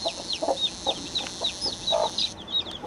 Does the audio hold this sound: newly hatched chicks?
yes